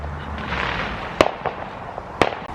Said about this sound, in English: fireworks keep going off around us